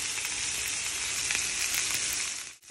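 Salmon fillets seasoned with salt and pepper fry in a pan for honey Cajun salmon, giving a loud, steady, dense sizzle that holds close and continuous before briefly dipping at the end, with no talk.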